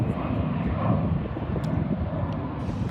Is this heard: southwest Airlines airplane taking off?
yes